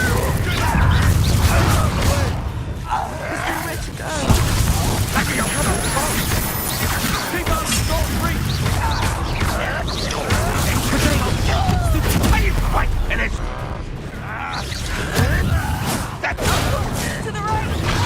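Spell combat in the Hogwarts Legacy game, with dense, loud crashes, whooshes and impacts from fire spells being cast, mixed with shouting voices throughout.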